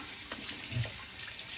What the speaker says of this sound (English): All right, cold water.